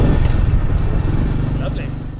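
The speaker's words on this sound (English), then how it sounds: "right on cue and you hear a load of engine noises" Scooters and motorcycles in busy Thai street traffic, with a close engine rumble under loud talking.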